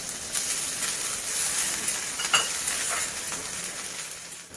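Small cubed potatoes and onions fry in a pan with a steady, close sizzle and hiss. Occasional stirring scrapes rise above the constant crackle.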